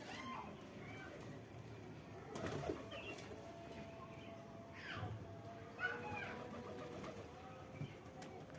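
Pet pigeons coo softly and intermittently while feeding at home, with a few faint wing flutters, quiet and close, a voice murmuring faintly in the background.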